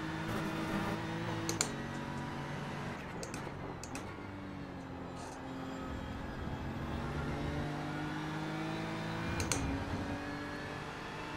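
A GT3 race car engine at Watkins Glen in the iRacing sim climbs steadily in pitch under hard throttle, with a few quick shift blips and keyboard-like clicks.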